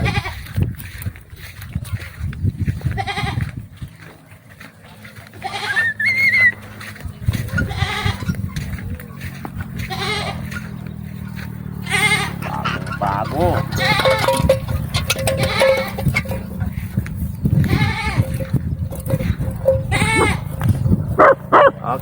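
Goats bleat repeatedly, loud and nearby, one of them pregnant, overlapping with people talking and some rustling and background noise.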